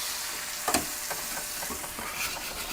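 Margarita-marinated chicken sizzles on a Vevor 22-inch flattop griddle, a close, constant hiss and crackle broken by a few sharp scraping clatters from a spatula as the pieces are turned.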